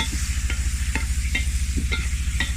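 Chicken frying in a pan for chicken macaroni, a steady loud sizzle with a low hum underneath and regular scraping strokes of a spoon stirring.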